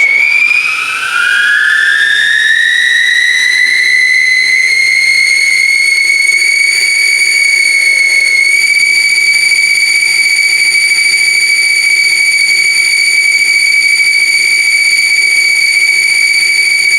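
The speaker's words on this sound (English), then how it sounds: "game whistles, and we'll put these on the blower." Twenty-four referee game whistles are driven together by a multi-stage centrifugal blower. Their shrill, loud chord rises in pitch over the first seconds, then holds as a steady, piercing tone with no voices.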